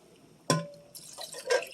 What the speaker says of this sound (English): Dump in the water,